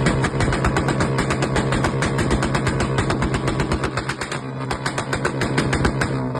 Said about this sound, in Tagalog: Marahil pamilyar ka na sa tunog na to. Pero, alam mo ba na bawal ang mga ganitong uri ng muffler o tambutso?